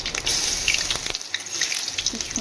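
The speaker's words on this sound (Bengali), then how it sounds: "কি সুন্দর গোড়াগুলো ভাজা যাচ্ছে।" Leaf fritters frying in hot oil in a kadai, a steady close bubbling hiss with a brief dip partway through.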